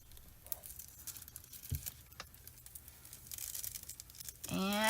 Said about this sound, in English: Pull our foil up.